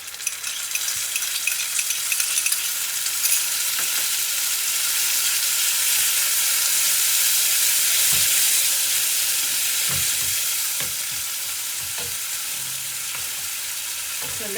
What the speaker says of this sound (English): So now I'll add the chopped tomatoes.